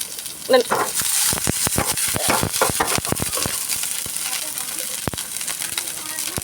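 Potatoes fry with onion, garlic and green chilli in a pan, a steady close sizzle broken by repeated sharp scrapes and taps of a spatula stirring, with a brief voice near the start.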